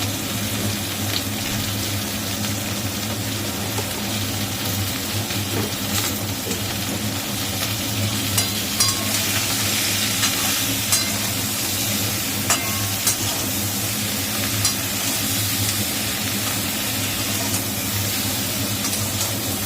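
Hilsa fish pieces with salt and turmeric are stirred in a pan, giving a steady hissing sizzle with scattered scraping and small clicks, close up and continuous for the whole stretch, with no talk.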